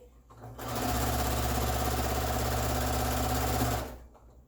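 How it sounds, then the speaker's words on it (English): Sewing machine stitching a fabric medical mask pocket holding a twist tie, a close, steady, fast mechanical whir lasting about three seconds between quiet start and stop. "stitch very close to it so that it won't slip, and just go past it clear to the other end"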